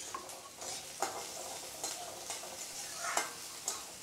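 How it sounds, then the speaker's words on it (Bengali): Garlic and onion go into hot oil and sizzle quietly and steadily. Intermittent spoon scrapes and small spits rise briefly above the soft frying. "এখানে তেল গরম হয়ে গেছে, তো দেবো রসুন পেঁয়াজ একসঙ্গেই দিয়ে দেবো।"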